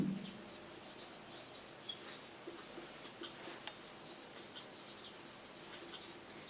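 A pen or chalk writing the words "thanking you" during an English letter-writing lesson, a faint, scratchy stroke texture with light ticks at steady intervals against a quiet background hiss, with no voice.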